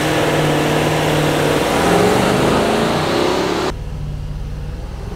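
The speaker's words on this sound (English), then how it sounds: "We want to hear that V8 rip." A Nissan Armada SUV with a 5.6-litre VK56 V8 roars hard as it launches. The loud engine note climbs steadily through a long gear, then drops abruptly to a quieter drone near the end.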